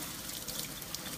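Cold tap water runs steadily over fresh fruit in a colander in a home kitchen while cobbler is being made, giving a continuous soft hiss and patter with no talk.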